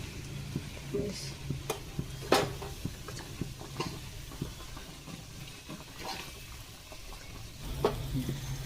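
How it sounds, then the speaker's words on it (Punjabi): About a kilo and a quarter of wheat flour roasts in a kilo of ghee for aate di pinni, a soft continuous sizzle broken by scattered scraping clicks of stirring, close and moderately loud. "ਤੇ ਆਟਾ ਪਾਉਣ ਲੱਗੇ ਆ ਆਟਾ ਭੁੰਨਾਂਗੇ"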